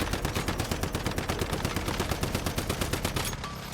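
Rapid automatic gunfire in the survival shooter Once Human, a continuous close burst of evenly spaced shots that stops abruptly near the end.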